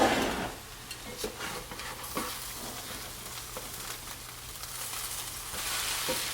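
A Spanish potato omelet fries in a pan with a steady, close sizzle and crackle, broken by a few scraping and stirring clicks.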